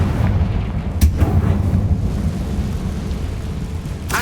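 Confringo fire spell blasts in the Hogwarts Legacy game, a deep rumbling boom with sharp cracks near the start and end, loud and close with no talking.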